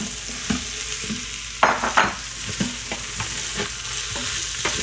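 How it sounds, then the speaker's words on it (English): Ridge gourd and moong dal being scraped and stirred in a hot sizzling pan, a continuous frying hiss broken by repeated spatula scrapes and clanks against the metal, close and clear with no talking. "So I'm just going to scrape them up and add the Turiya or the ridge gourd."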